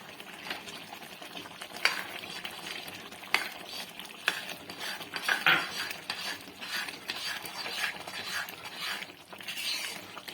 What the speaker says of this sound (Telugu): వేసుకొని కొద్దిసేపు కలవాలి.